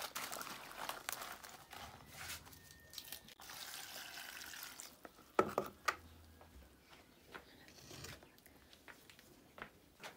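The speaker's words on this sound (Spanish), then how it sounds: "Y ahora le pongo poquita agua para que se ablande el chile" A small amount of water pours into a blender holding chiles in a home kitchen, a soft, uneven splashing trickle with a few scattered clinks and no voices.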